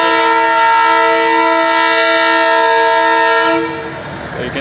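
A train passing near a crowded neighborhood in Madagascar sounds a long, loud, steady horn for several seconds before it cuts off, leaving rumbling rail noise and street ambience.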